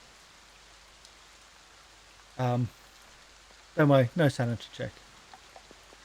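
Steady rain hisses softly as an ambient backdrop in a Call of Cthulhu tabletop one-shot, a constant faint wash underneath a voice talking in brief bursts.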